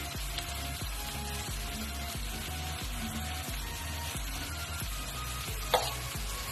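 Spiced ground meat filling for Turkish pide, seasoned with chili flakes, thyme and salt, sizzles steadily in a pan. A spoon scrapes through it in a regular rhythm of strokes, with one sharper clink near the end.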